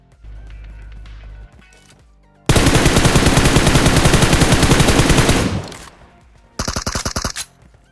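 Sustained automatic fire from a Groza assault rifle in a PUBG match, a long loud spray of rapid shots lasting about three seconds, followed after a short pause by a second quicker burst.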